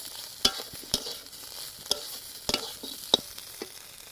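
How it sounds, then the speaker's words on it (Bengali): Vegetables and ginger-garlic paste stirred in a pan, a soft low sizzle under scattered scraping clicks of the spoon against the metal, close and quiet with no voices. "দিয়ে দিলাম আদা রসুন বাটা এবারে ভালোভাবে মাখিয়ে নেবো"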